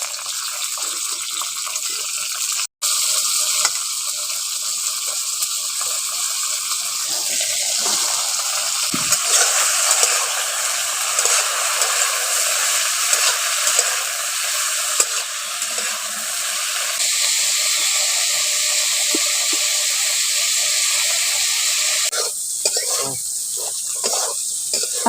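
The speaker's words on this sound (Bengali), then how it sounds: "এবার বরবটিগুলো ভেজে নিচ্ছি ওই তেলের মধ্যে।" Yardlong beans frying in hot oil in a home kitchen, a steady hiss and sizzle with a wet, gushing texture that runs continuously for the whole stretch, loud and close, with no talking.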